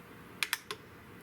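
Three quiet, sharp mechanical clicks from the trigger of a Spanish-made Richland Arms 20 gauge shotgun being dry-fired, two close together and a third just after, alone in a still room.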